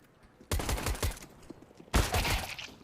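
Counter-Strike gunfire punches through drywall in a pro match: two dense, loud bursts of overlapping shots, each trailing off into crackling impacts.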